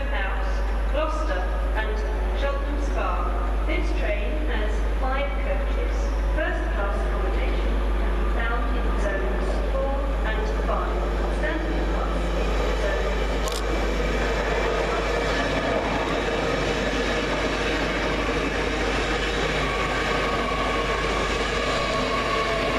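A Great Western Railway Class 800 unit, 800 002, rolls into Reading station with a steady low rumble and rising wheel and motor noise, continuous and fairly loud, while a voice talks over it.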